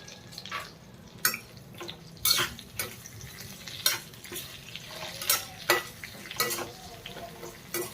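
Stuffed eggplant frying in oil in a pan on low heat, a soft steady sizzle broken by repeated clinks and scrapes of a utensil stirring, close and moderately quiet, no talking.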